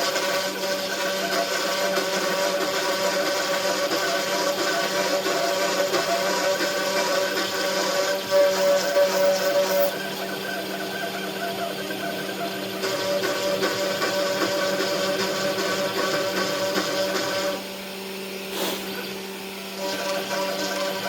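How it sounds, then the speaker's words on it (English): A Wizmaker Artisan CNC router drives a 1/8-inch two-flute carbide end mill through a wooden part. It gives a steady, loud motorized whine with a grinding cutting texture that shifts in pitch and load around the middle and near the end. "We're gonna actually machine a part out of wood."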